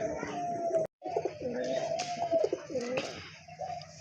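Quiet, repeated pigeon coos, low and rolling, a short silent break early on, then more cooing continuing nearby.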